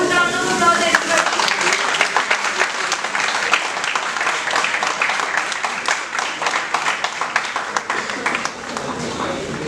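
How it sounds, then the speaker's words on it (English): Crowd applause at a corporate HR conclave follows a placement brochure launch: sustained, lively clapping with a few distinct sharp claps and a murmur of voices underneath, holding at a fairly even loudness throughout. "Please give a huge round of applause, everybody."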